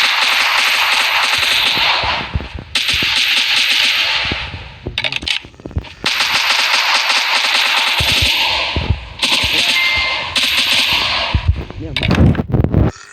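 Gunfire rattles in a zombie survival video game in long, dense bursts of rapid shots with short gaps between them, loud and close, with voices talking over parts of it.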